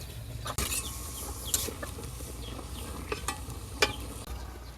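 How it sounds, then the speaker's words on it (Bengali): Bottle gourd greens fry in a pan over turmeric powder and chili, stirred with steady scraping and a soft continuous sizzle, with a few sharper knocks of the utensil and faint rural background sounds. "শাকটা এখন এপাশ ওপাশ করে দেয় যেহেতু নিচে আগে হলুদের গুঁড়ো মরিচ টরিচ সব কিছু দিয়েছি"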